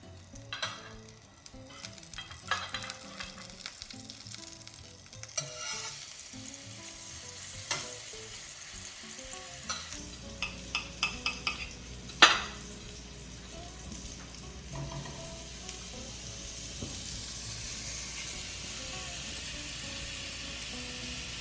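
Bananas fry in unsalted butter in a pan, first with scattered clicks and soft taps of the pan and utensils, then a steady, close sizzle that builds and holds to the end.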